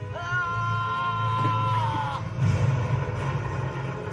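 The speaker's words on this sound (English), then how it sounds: "Oh my god, he just screamed." A character's long, drawn-out scream or yell from an anime episode of Dororo, sustained for about two seconds, followed by rougher, noisier shouting and background commotion.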